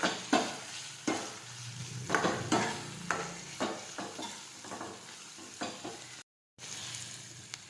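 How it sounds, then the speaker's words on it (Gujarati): Spices with turmeric and cumin frying in a pan, a soft crackling sizzle broken by a regular series of scraping stirs, close and moderately loud, with a brief cut near the end. "હવે આપણે સાતળી લઈશું."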